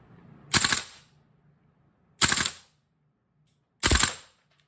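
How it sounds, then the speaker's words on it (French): Three separate sharp bursts from a VFC or Viper Tech airsoft gun fired on automatic, each a short loud rattle, spaced evenly with quiet between. "de tirer cette charge sur automatique ou pas tellement automatique, mais avec plus de rafale"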